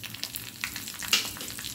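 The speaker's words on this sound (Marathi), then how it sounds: "2 हिरव्या मिरच्या कापून घेतल्या त्या टाकूया।" Sliced green chillies hit a spoonful of hot oil with mustard seeds and asafoetida for a dhokla tempering, giving a soft, steady sizzle with small crackling pops over about two seconds.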